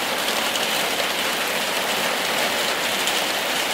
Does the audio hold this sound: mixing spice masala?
no